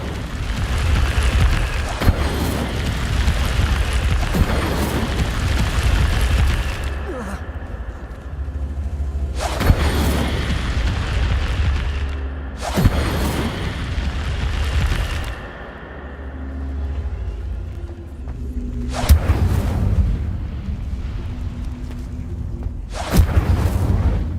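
Incendio fire spells in Hogwarts Legacy burst out as loud whooshing fiery blasts, several separated by a few seconds each, over a low rumbling background.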